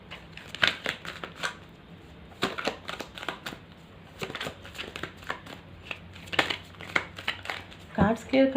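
Tarot cards are shuffled and cleared by hand, giving repeated crisp riffling and flicking bursts up close, with brief pauses between rounds and a faint voice in the background.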